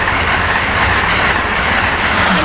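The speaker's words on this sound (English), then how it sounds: "Here we got the SEPTA train to Chestnut Hill East" A SEPTA train bound for Chestnut Hill East rolls past close by, a loud, steady roar of wheels on rails with faint clickety-clack running throughout.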